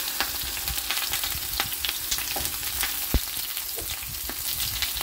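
Vegetables sizzling and crackling in a small amount of hot oil in a pan while pancit canton is cooked, a steady close fry with light stirring and no talk.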